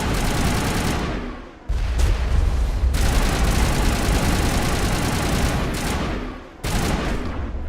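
Sustained gunfire from turrets and Geth in a video game crossfire: dense, continuous shooting that drops out briefly twice and then resumes at full strength, with no voices.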